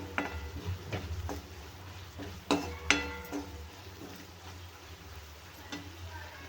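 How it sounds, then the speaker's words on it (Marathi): Vegetables sautéed in a pan with turmeric, chicken masala and garam masala, heard as intermittent scraping stirs and clinks of a spoon against the pan over a low background, with several sharper strokes. "थोडीशी हळद आणि थोडासा गरम मसाला. ते पूर्ण मस्त व्यवस्थित परतून घ्यायचे."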